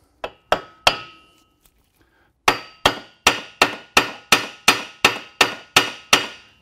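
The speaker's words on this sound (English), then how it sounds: "Hammer on this to loosen up as much as possible." Loud metallic hammer blows ring out on a C7 Corvette Z06 suspension spindle, three strikes, a pause, then about eleven steady, evenly spaced hits up close.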